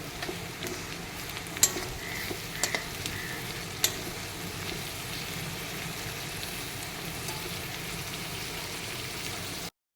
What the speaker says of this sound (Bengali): এবার দিয়ে দেব তেলেশে শীতলটা, দিয়ে আর একটু নাড়িয়ে নেব